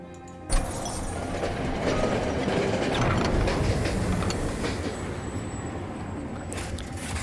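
Train noise from the video game Monster Train, a continuous rumbling, rattling rail sound that starts abruptly with a thump and runs steadily at a moderate level without talk.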